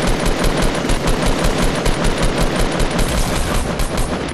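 Rapid automatic gunfire from an enemy in Fortnite Battle Royale, a loud, relentless stream of closely spaced shots hammering on without pause for several seconds.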